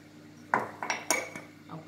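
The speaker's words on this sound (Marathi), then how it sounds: "मिक्स करत आहे मीठ आणि गूळ" A spoon scrapes and knocks against a bowl while salt and jaggery are mixed for mango pickle, four or five close clinks and scrapes in an otherwise quiet room.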